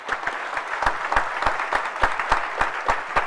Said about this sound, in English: let us give them a warm round of applause as they take their leave